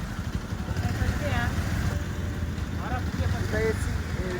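TVS scooter engine running while being ridden through town traffic, a steady hum with road noise underneath a person talking throughout.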